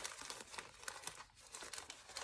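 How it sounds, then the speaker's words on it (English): Plastic packaging around fabric samples being torn and crinkled open by hand, close and fairly quiet, in a run of short rustling bursts with no talking. "I'm going to tear into these first."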